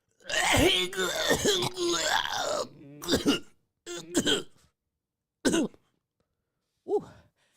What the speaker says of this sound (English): I actually think I need to pause for the cause and clear my throat.